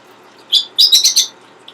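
A pet lovebird gives a few sharp, high chirps and calls up close, one short note followed by a quick cluster of three or four, with no talk.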